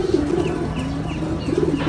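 Pigeons at a pigeon farm coo in soft, low, repeated calls at close range, with faint chirps mixed into a steady background murmur. No voices.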